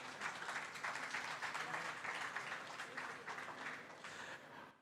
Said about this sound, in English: How about a big round of applause to Dr. Jack Koh, CEO of Malaysia Purple League.